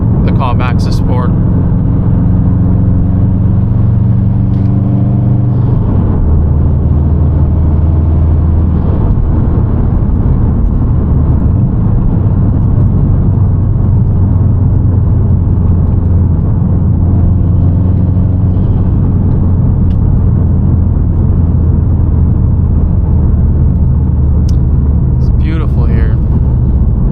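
A 2017 Subaru STI being driven during engine break-in, a steady loud engine drone and road rumble from inside the car throughout, with a voice talking over it.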